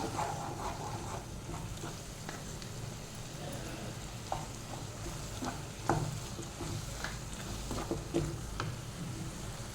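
A spoon stirs tomato sauce into boiling egg chilli gravy in a pan, the steady bubbling sizzle underneath, with soft irregular scrapes and clinks, fairly quiet and close.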